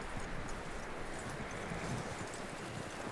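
Horse hooves clip-clopping steadily in Red Dead Redemption 2, a continuous close rhythm of hoofbeats over a dense, noisy background.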